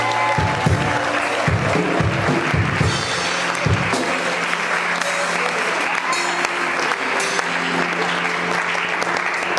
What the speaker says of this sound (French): je veux encore des bonnes acclamations